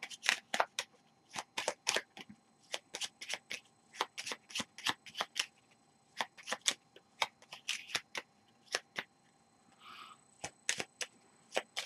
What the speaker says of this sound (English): We need to shuffle his hit location deck.